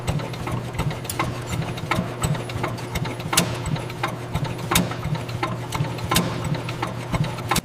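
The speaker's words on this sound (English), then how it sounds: "the 1893 Duryea engine fires for the first time since the 19th century" The engine of an 1893 Duryea Motor Wagon chugs and idles with a steady low hum, punctuated by sharp, regular clacking pops from the running machinery.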